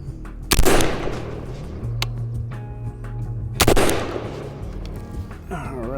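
Two loud gunshots from a Genesis Arms Gen-12 SBS short-barreled shotgun on an outdoor range, sharp blasts about three seconds apart with ringing decays, followed by quieter handling noise.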